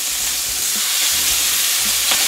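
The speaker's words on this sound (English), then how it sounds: "Get that right in there, hear that sizzle." Chicken fillet frying in a hot pan, a steady sizzle with a continuous bright hiss and a few soft clinks of food shifting, no voices.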